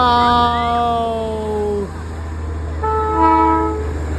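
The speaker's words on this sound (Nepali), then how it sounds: "अब ट्रेन आयो ल।" A Darjeeling Himalayan Railway train sounds two loud, near horn blasts, one long then a shorter one after a pause, over a low rumbling engine.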